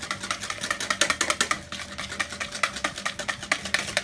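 Quick rhythmic whisking of molten chocolate lava cake batter with vanilla in a bowl, a steady run of sharp clicking strokes close by, briefly pausing midway before resuming.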